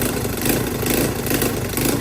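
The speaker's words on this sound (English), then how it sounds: "It's got a hole in the muffler, that's why it's so freaking loud." A Chinese ATV engine with a hole in its muffler and a leaking muffler gasket idles loudly and close by, a rough, even exhaust drone with slight pulsing throughout.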